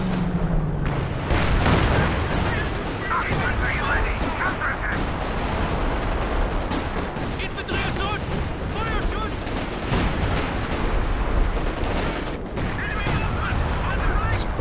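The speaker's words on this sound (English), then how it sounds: "Barraging away out the back." An artillery barrage in Company of Heroes 2 rolls on continuously: booming impacts mixed with rattling gunfire, loud and dense from start to end, with shots stacking over one another.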